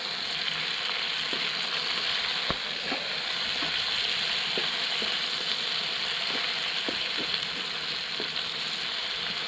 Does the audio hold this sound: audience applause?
no